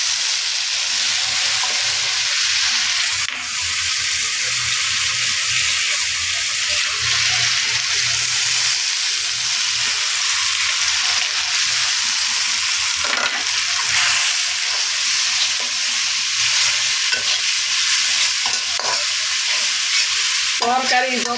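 Curry paste with chili and turmeric powder frying and being stirred in a pan for a fish and greens dish, a steady loud sizzle with scraping strokes throughout, no talk.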